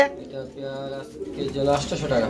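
Pigeons at a bird market cooing in a soft, low, repeated coo close by, with someone talking over them.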